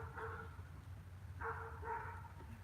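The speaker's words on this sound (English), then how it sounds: "They're barking at a neighbor up front." Dogs barking at a neighbor out front, a few faint, distant barks that come in two short bursts over a low steady background hum.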